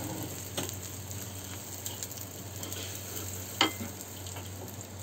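Eggs fry in a pan with shrimp and are stirred now and then, giving a faint, steady sizzle with a few soft scraping clicks from the stirring.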